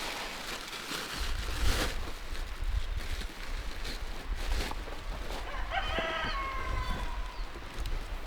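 Chickens on a rural farm in Vietnam cluck and scratch in a steady outdoor bed, and a rooster crows once clearly near the end, nobody speaking.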